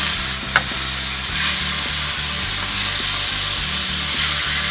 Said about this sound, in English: To pan sear the scallops